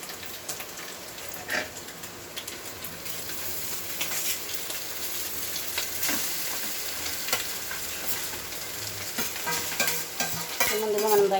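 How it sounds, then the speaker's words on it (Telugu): Cooked rice stir-fried in a pan with frying onion and spices for egg rice. A loud, crackling sizzle is broken by repeated scraping and stirring strokes of a spatula, and it grows busier toward the end. "ఇదంతా కొంచెం ఫ్రై అయిన తర్వాత ఫ్రెండ్స్ మనం ముందుగా తీసి పెట్టుకున్న రైస్ని వేసుకోవాలి."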